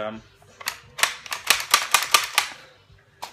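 A gun's action is worked by hand, producing a quick run of sharp metallic clicks and clacks close up, then a pause and one last click.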